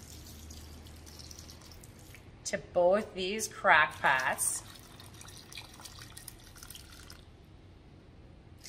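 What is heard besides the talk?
pouring hot apple cider vinegar into crock pots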